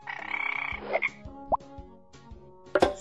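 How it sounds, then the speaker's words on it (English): A cartoon frog croaks in a kids' animal jigsaw puzzle game, a rattling croak followed by plopping blips and chimes over light game music. "frog,"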